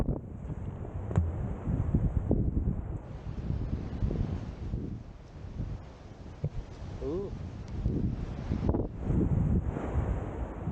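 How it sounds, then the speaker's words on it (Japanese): Strong wind gusts roaring across a coastal trekking trail at Suzaki promenade near Shimoda, Izu, buffeting the microphone with a heavy, continuous low rumble that swells and dips throughout. "風が強くて帽子が飛ばされた。"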